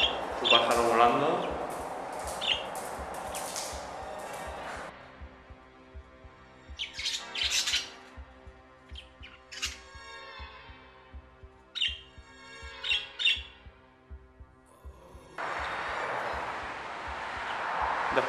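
A bird loose in a wooden-beamed attic of an old house gives sharp squawks and chirps, loud at the start and end with scattered calls between, while a person talks over a faint steady hum.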